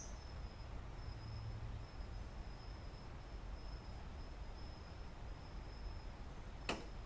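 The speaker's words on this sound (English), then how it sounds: "The crickets," A steady, high insect chirr runs through, continuous and faint over a low ambient hum, with one brief sharp click near the end.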